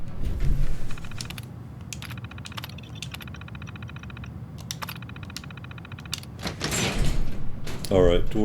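In the video game Fallout 4, a door slides open with mechanical clicks and a shifting whoosh near the end, following a stretch of rapid, repetitive ticking and clicking.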